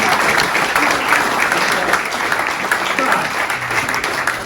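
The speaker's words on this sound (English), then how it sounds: "Give her a round of applause." Crowd at a Reform UK meeting in the Camelot Castle Hotel gives a loud, sustained round of applause for a volunteer, dense clapping close up with some voices mixed in.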